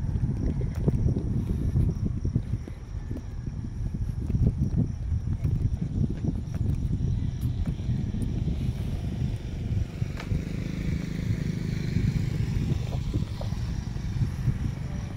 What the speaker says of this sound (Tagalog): Sarap ang simoy ng hangin.